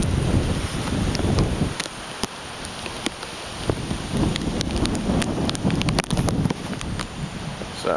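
Steady rain and gusting wind during Hurricane Isaac in southern Alabama, a dense continuous wash of rainfall with buffeting wind noise on the microphone and scattered sharp drips and taps.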